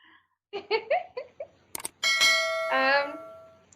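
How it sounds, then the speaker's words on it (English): A grandfather clock chimes indoors, with ringing bell-like tones after several soft voiced sounds and laughter, the chime sustained and fading near the end, moderately quiet. "There's Laura's grandfather clock"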